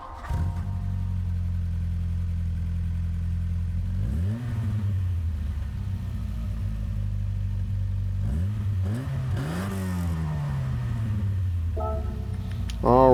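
A 1983 Volkswagen Golf I GTI in Gran Turismo 7 idles steadily, then revs sharply twice with rising and falling sweeps before settling again, loud and close, with a final burst at the end.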